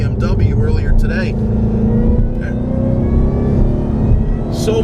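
Hennessey HPE750 Mustang, a heavily tuned track car with street suspension, roars steadily under hard acceleration down a short straight, a loud continuous engine drone close by, with a voice talking over it.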